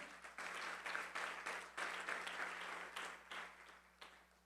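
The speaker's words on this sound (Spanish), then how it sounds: "dale un fuerte aplauso al Señor Jesús" A church congregation claps during a sermon, making a faint, slightly distant burst of applause that swells and fades in waves over a few seconds.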